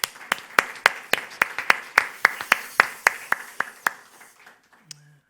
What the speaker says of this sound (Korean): 이 시간 다시 한번 정말 진심으로 감사의 박수를 한번 올려드리십시다